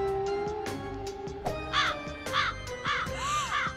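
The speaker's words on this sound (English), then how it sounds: "Just a crow." A crow caws repeatedly in a steady rhythm, several harsh calls ringing out over a quiet tonal background with regular soft ticking beats, fairly close and clear.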